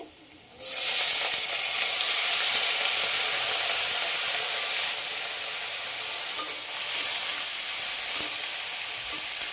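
Chopped potatoes tipped in with onions frying in a pan, a sudden loud sizzle that settles into a steady, close hiss with occasional soft stirring scrapes.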